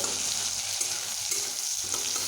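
Vegetables for a vegetarian paneer dish sizzle steadily in a hot pan, a close bright frying hiss with soft stirring scrapes and no talk.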